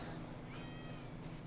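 A cat in a video game gives a single short meow, clear over a steady background hum.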